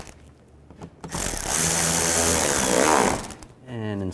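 Power tool runs for about two seconds, a loud, steady whirring drive as screws are tightened on a 2011–2014 Chrysler 200 radiator shield, with brief clatter before and after.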